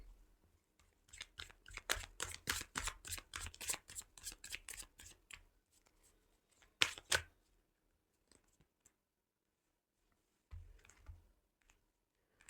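Tarot cards shuffled by hand indoors, a rapid run of crisp riffling snaps for several seconds, then a sharper flurry and a brief soft shuffle after a pause, with no talking.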